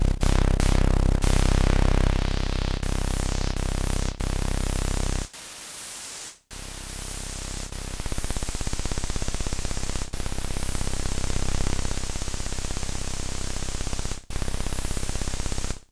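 Dense, steady synthesized noise roars continuously, cutting out abruptly a few times and quickly resuming at full strength.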